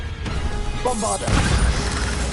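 A Bombarda spell goes off in Hogwarts Legacy on PS5. A short crack opens into a loud, crashing blast that rumbles briefly over game noise.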